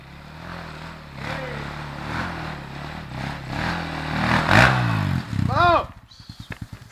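An enduro motorcycle engine buzzes and revs nearby, climbing in pitch with sharp rising whines toward the end, while people talk over it.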